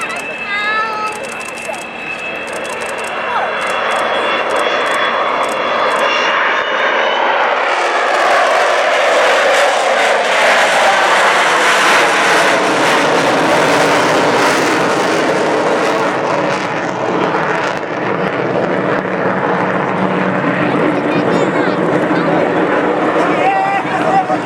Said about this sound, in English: That was the sound and the effect of 4 Bristol Olympus 201s in this case